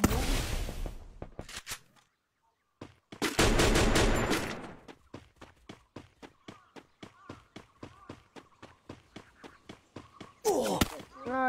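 Gunfire in the mobile battle-royale game Free Fire: a long run of sharp, evenly spaced shots in a steady rhythm, with a couple of louder bursts and a brief pause near the start, fairly loud and mostly without voices over it.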